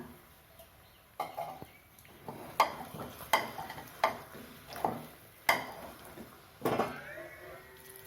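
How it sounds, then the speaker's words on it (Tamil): Ragi dough is stirred with the handle of a slotted ladle, giving about a dozen sharp scraping knocks against the pot at an uneven rhythm, close and clear over a faint sizzle. "சல்லி கரண்டி காம்பாலையே கிளறி விட்டுக்கிறேன்"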